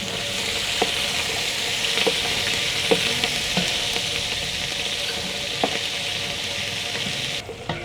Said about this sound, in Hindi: प्याज को अच्छी तरह से फ्राई कर देंगे।